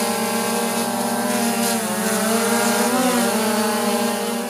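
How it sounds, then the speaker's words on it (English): A flying drone gives off a loud, steady whining hum with harmonic tones that rise and fall slightly as its motors shift speed, close and continuous with no voices over it. "all you're going to be able to hear is just the humming coming from the drone"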